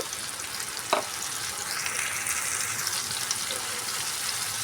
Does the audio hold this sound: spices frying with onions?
yes